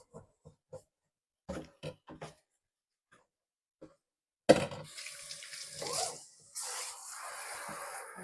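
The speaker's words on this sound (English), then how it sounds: "Let's wash this sink." Kitchen sink being washed: a few soft scrubbing taps first, then a tap turns on and water splashes and runs into the basin, briefly stopping before pouring steadily again, close and fairly quiet.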